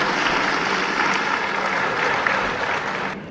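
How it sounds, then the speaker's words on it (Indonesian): A large audience in a hall applauds the 2024 presidential and vice-presidential candidate pairs at a televised debate, producing a loud, continuous roar of clapping that holds steady before easing off at the very end. "marilah kita berikan tepuk tangan yang meriah untuk pasangan calon presiden dan calon wakil presiden"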